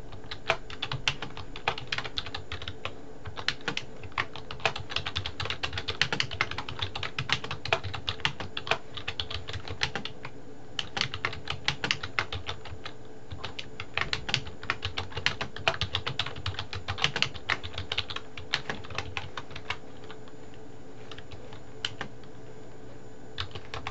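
Steady computer-keyboard typing while a footnote is entered in a document, a dense run of quick, close key clicks with short pauses, continuing for the whole stretch with no talking.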